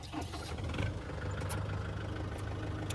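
A farm tractor's engine runs steadily and fairly quietly at low revs, a continuous rumble with no speech over it.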